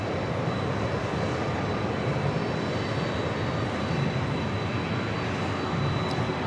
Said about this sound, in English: Duo of Vista America Challenger 300 up next for takeoff.